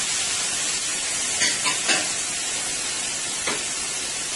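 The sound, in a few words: bacon and sausage sizzling in hot oil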